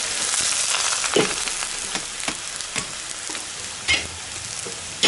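Small pumpkins stir-fry in hot oil in a wok with a steady, close sizzle, while a spatula scrapes and clacks against the pan in irregular strokes.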